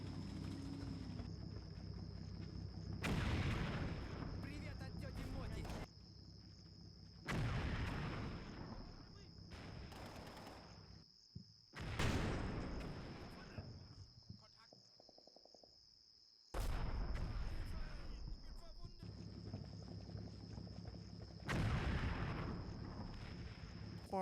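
A tank round fires in the WWII Eastern Front wargame Combat Mission: Red Thunder, one of several heavy booming blasts in a sequence, each a broad thud with a decaying rumble over a steady, high insect-like chirring ambience.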